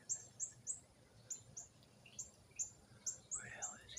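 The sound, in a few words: cardinal peeping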